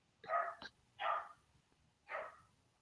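A puppy barks three or four times, short sharp yips spaced about a second apart, close by and clear against a quiet room with no talking.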